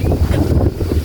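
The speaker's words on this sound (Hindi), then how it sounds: "अभी कितनी ठंडी ठंडी हवा चल रही है।" Cool wind blows across a rooftop before an approaching storm, a loud, continuous gusting roar pressing against the microphone, with no voices.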